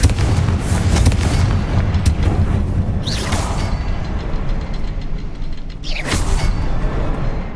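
A Confringo fire spell from Hogwarts Legacy: loud booming blasts burst out at intervals over a constant heavy rumble, each with a sharp whooshing crack.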